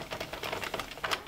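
An Addi knitting machine is cranked through a row of yarn, giving a quick, rapid run of light plastic clicks and clatters, close and fairly quiet.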